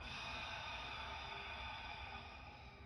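A slow, steady breath out during a guided breathing exercise in a wellness class, a soft continuous airy hiss that gradually fades, close and with no talk.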